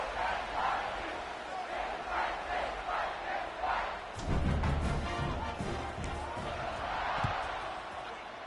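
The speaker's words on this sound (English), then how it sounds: "this crowd is buzzing after that last score" Stadium crowd in a college football video game, with FIU Panthers playing FSU, roaring in rhythmic rising chants before a louder thump and swell of noise, continuous and loud behind faint commentary.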